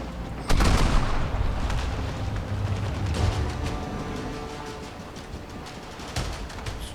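Ship cannons firing a broadside in the pirate game Crosswind, with several heavy booms and sharp reports in a ragged volley over a rumbling background, the loudest blasts near the start.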